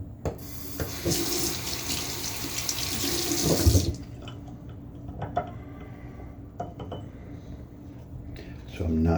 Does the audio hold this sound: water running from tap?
yes